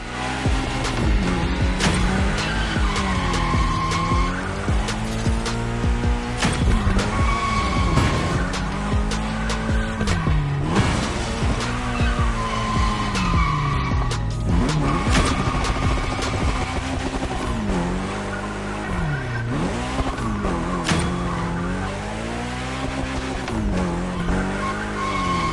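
Car drifting in The Crew: Motorfest, with loud continuous tire squeal and skidding over a revving engine that rises and falls throughout, no talk.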